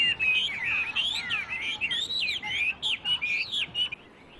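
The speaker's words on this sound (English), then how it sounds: "The fluttering of birds' wings and their chirps are the essence of this sociable old Beijing custom." Caged songbirds at an old Beijing bird-strolling gathering chirp and trill in quick, bright overlapping bursts, close and lively, with short gaps near the end.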